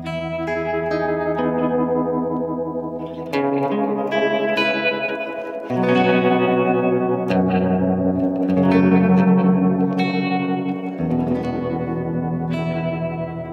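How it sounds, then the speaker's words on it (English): Shimmer reverb made by stacking a lo-fi reverb with a modulated reverb, washing sustained, chorused instrument chords into a loud, shimmering, echoing pad that shifts harmony every few seconds, with no voice present. "This is again two reverbs. It's the lo-fi. Combined with a mod verb."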